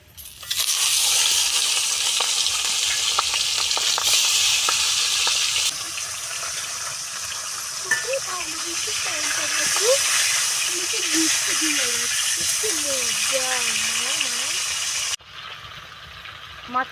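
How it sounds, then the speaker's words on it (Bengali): Catla fish head sizzles in hot oil in a kadai, a loud steady frying hiss that eases partway through and cuts off near the end, with a voice talking over it in the middle. "এখন আমি মেখে ভেজে নেব। তেলটা আমার গরম হয়ে গিয়েছে।"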